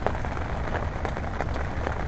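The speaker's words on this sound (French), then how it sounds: "la pluie ça devient pénible" Steady heavy rain falls outdoors during a fishing session, a dense continuous hiss of drops with no pauses or voices.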